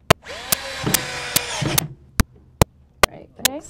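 A power drill whirs in a short burst while driving screws with washers into a wooden table leg, then stops and gives way to a series of sharp, evenly spaced clicks, with a voice briefly heard near the end.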